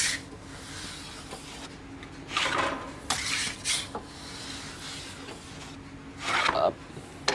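Rye bread loaves come out of a bakery oven amid scattered metallic scrapes and clatters of trays and tools, short bursts separated by quieter stretches of low background hum.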